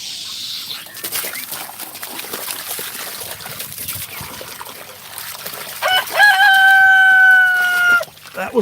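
A rooster crows loudly and close by on a farm, one long drawn-out call rising and holding before cutting off, following a stretch of quieter background rustling and trickling water.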